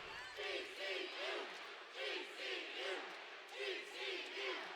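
Gym crowd at a men's college volleyball match against BYU chanting in unison, a rhythmic repeated group call rising and falling every second or so, steady and moderately distant.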